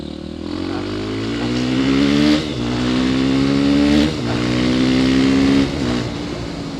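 A loud KTM 500 EXC-F dirt bike engine revs up in repeated rising sweeps, dropping briefly between each climb, close and continuous with no talking.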